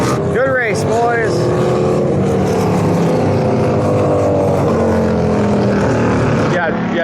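Racing motorcycles at a MotoGP King of the Baggers race roar past with loud engine drone and quick doppler-shifting whines, steady and close throughout, with a second bike sweeping by near the end.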